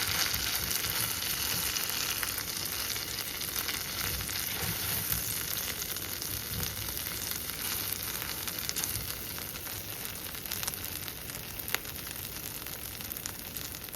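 Pav bread coated in bhaji fries in butter on a hot pan, giving a steady, close, continuous sizzle with faint crackling throughout.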